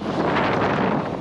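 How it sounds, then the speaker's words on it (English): Strong wind buffeting a microphone at a lakeside campground beach, a loud steady roar filling the whole moment with no voices. "it's so windy"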